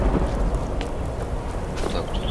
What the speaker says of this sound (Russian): Гроза какая-то.